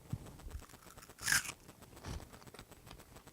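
A single sharp crunch of biting into a crisp homemade crouton, close up, with quiet chewing sounds around it.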